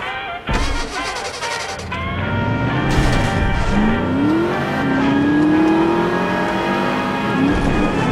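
Car engine in a racing video game, starting with a brief bang and then revving and accelerating, its whine climbing in pitch through several upshifts, loud and close, with no talk.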